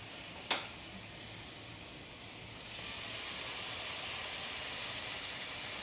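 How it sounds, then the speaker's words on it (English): Smash burgers sizzle on a hot pan with a steady, broad hiss that swells partway through and holds loud and even, opening with a short sharp tap. "listen to that sizzle, baby. Smash burgers."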